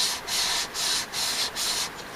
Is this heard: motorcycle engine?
no